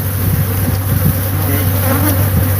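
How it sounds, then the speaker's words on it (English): Killer bees buzzing in a steady, continuous drone that holds at an even loudness throughout, layered over a low constant hum, with no talking. "So these are killer bees."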